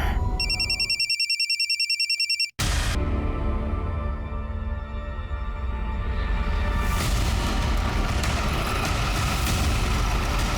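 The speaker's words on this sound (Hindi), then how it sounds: "मैं फोन लगा के देखता हूँ।" A telephone rings with a rapid electronic trill for about two seconds as a call is placed, then cuts off, leaving a loud rumbling background of traffic or engine noise.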